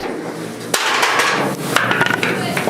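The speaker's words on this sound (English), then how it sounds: "It was just a hammer." Metal hammer blows aboard a US Navy nuclear submarine in the Arctic: a handful of sharp, clanking strikes at irregular intervals, loud and close, mixed with voices talking.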